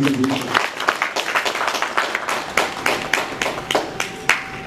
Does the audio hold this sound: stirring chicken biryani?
no